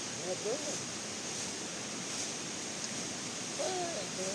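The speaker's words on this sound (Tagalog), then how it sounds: "Ang maingay lang dito yung hagos ng ilog. Malakas yung tunog." A river in a forest rushes steadily in the background as a broad, even hiss, with brief faint voices or calls at the start and end.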